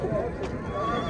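A horse whinnies briefly amid the steady murmur of a busy horse market in Jalal-Abad, with background crowd noise and faint hoof clatter throughout.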